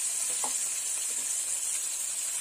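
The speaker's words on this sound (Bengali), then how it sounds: "তেল গরম হয়ে গেছে, মাছটা ভেজে নেব" Steady, loud sizzling of fish frying in hot oil, a dense bright hiss with a faint clink or stir early on, no voices.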